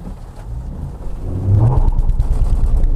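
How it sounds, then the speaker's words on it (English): A 2016 Honda Accord V6 manual pulling away hard from first gear with wheel spin: a loud, close engine rumble that swells and stays heavy as the car accelerates, with no talk. "Just getting wheel spin, just getting wheel spin, still spinning, and there's 60"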